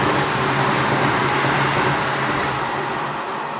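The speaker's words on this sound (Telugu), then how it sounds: "వందే భారత్ ట్రైన్." A Vande Bharat train passing nearby as a steady, loud broadband rumble and roar that holds for a few seconds and eases slightly toward the end, with no talk.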